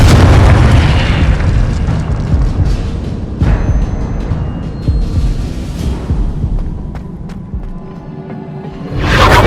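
Confringo blasting spells explode in Hogwarts Legacy, with loud, rumbling booms and bursts crowding one after another before a final swelling blast.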